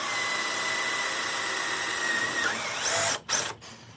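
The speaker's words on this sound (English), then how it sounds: "drilling a hole in the fenders" Hole saw drilling through a VW Baja Bug fender, a steady loud whine that drops near the end and gives way to a couple of short shrill bursts as the cut finishes.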